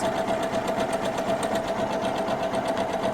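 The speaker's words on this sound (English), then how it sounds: "Okay, so I'm going to go ahead and start sewing. It's going to do my fixed stitches." A Husqvarna Viking Jade 35 sewing machine stitches fabric at a fast, even rate, its close, loud mechanical whirr holding a steady hum with rapid rhythmic ticking throughout.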